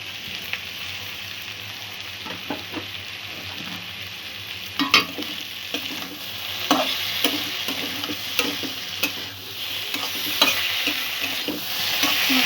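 Chopped tomato frying in a pan of spiced potato curry, close crackling sizzle broken by repeated scraping stirs of a spatula, rhythmic knocks throughout, without any talking.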